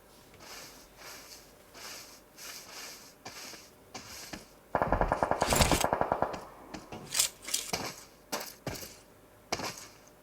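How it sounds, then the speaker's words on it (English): Automatic gunfire rings out during a PUBG scrim match, with one team shooting toward another. A short, sharp rapid burst comes mid-clip, followed by scattered single shots over a quieter in-game background. "Rog Fallen of Team 42 is firing towards Team 49."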